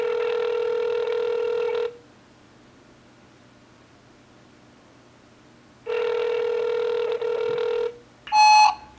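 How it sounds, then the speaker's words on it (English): Outgoing call ringback on a telephone: two long electronic rings separated by a few seconds of quiet, followed by a brief burst of higher tones at the end, with no talking. "I'm going to call you right now."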